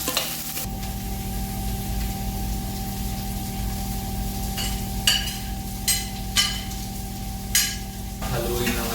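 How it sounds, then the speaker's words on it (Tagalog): Garlic and carrots for Bicolano-style fish escabeche are stirred in a sizzling pan, a steady frying hiss under several short scraping strokes of the utensil against the pan, close and moderately loud. "Haluin lang natin ito ulit."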